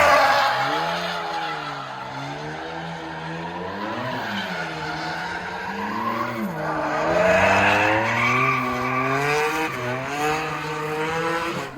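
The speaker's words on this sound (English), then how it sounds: "the car is now built for drifting" A rear-wheel-drive Subaru Legacy with an EZ30 engine, angle kit and 350Z rear end drifts with a loud, sustained engine whine that rises and falls, plus tire squeal and skidding throughout.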